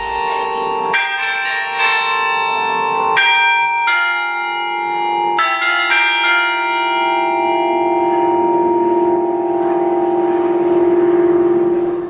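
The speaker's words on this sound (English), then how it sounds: "be sure to stick around and listen to the bells" The church bells of Hallgrímskirkja in Reykjavik ring loud and close, with a series of separate resonant strikes that overlap and leave a long, humming decay.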